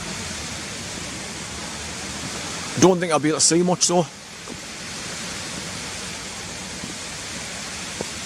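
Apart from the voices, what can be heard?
water dropping under a road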